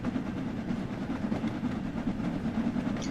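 An LMS Jubilee steam locomotive in Train Sim World 2 sets off with a steady rumbling roll and soft rhythmic rail clatter, heard on its own at moderate loudness.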